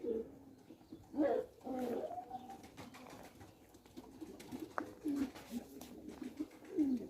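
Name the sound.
birds cooing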